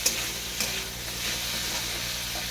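Thickly sliced onions hit a hot oiled pan with a steady, broad sizzle and a few faint stirring scrapes, close and continuous, no voices.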